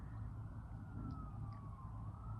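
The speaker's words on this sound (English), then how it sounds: "I'm hearing the sirens" Emergency vehicle siren wailing in a steady tone over a low rumble, faint and distant, with no voices.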